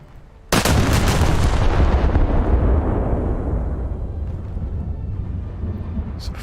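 A warship's artillery salvo fires in World of Warships: a sudden loud boom that hits at once and then rolls on in a long, heavy rumble, fading slowly over several seconds with no talk over it.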